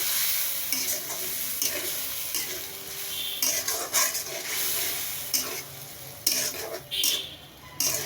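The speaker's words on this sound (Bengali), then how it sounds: "মশলাটাকে কষিয়ে নিব" Masala for egg curry frying in a pan with a little water, a steady hiss broken by repeated scraping stirs of a spoon against the metal, close and fairly loud throughout.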